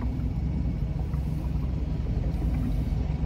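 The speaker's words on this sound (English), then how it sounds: "I'm gonna go ahead and put this in gear and give it a little run and we'll see how it does." A 1998 Sea Ray 180 boat with its engine running in gear, a steady low rumbling drone with a constant churning, close and unbroken throughout, with no talking.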